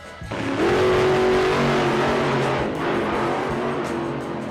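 Monster Jam monster trucks race with a loud engine roar that rises into a high revving whine, then holds a sustained, slightly wavering drone, close and alone with no voices.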